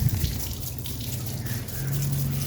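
Water splashes and runs over a charpai being scrubbed with detergent, a steady close wet wash with low rumbling flow and small splatters, no talking.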